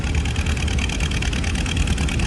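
A Super A tractor engine runs at a tractor pull with a steady, rough throbbing rumble, close and fairly loud, its rhythmic firing pulsing evenly throughout, sounding close to losing power.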